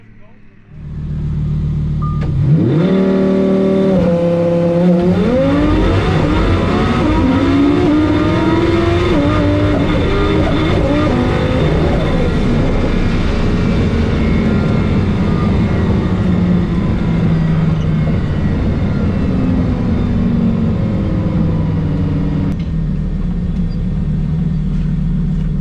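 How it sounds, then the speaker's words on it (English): An Alpha Omega drag Lamborghini Huracan launches on a track, its engine roaring loud and close as the revs climb through several quick gear changes, then holding a sustained, heavy howl. "The first day of testing the Drag Huracan."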